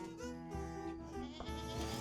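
Sheep bleating in the video game Plants vs. Zombies 2, a wavering cry layered over steady game music, continuous for about two seconds.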